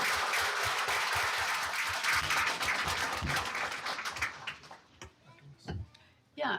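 Dense applause from a crowd at a school board meeting, loud and continuous, then thinning into scattered individual claps before a final burst.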